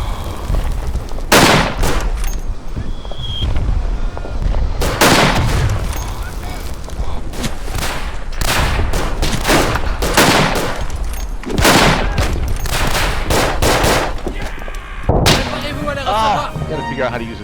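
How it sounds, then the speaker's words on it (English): Heavy artillery fire in the WWI shooter Verdun, with repeated loud booming blasts and cracking gunshots landing close together across the whole stretch, forming a dense, chaotic battlefield barrage. "The artillery, again, we're shell shocked by."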